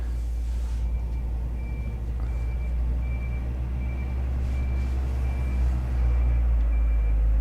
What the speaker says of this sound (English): Sorry, that's possibly very loud, that forklift behind me.